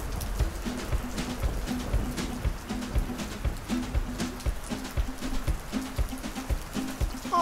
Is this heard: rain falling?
yes